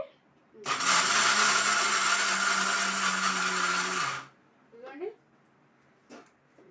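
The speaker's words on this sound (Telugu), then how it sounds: "ఇక దీన్ని కచ్చా మిక్సీ పట్టేసుకున్నా" Mixer grinder briefly whirring to coarsely grind roasted peanuts for a chutney, a loud steady motor drone for about three and a half seconds that cuts off sharply, followed by brief talk.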